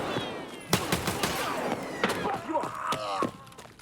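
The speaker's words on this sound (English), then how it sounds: "I'm just gonna dump the rest of this mag out, and then we're gonna throw in the 60 rounder" An AK-74N in Escape from Tarkov fires the rest of its magazine as a short run of sharp, loud shots, with irregular spacing and the reports ringing out over a background of ambient noise.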